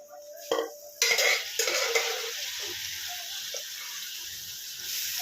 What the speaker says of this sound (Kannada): ಸೊ ನಾನು ಇವಾಗ ನಾನೇನು ಬೇಯಿಸಿಕೊಂಡಿದ್ನೋ ಕಾಳು ಅದನ್ನು ಹಾಕೋತಾ ಇದ್ದೀನಿ.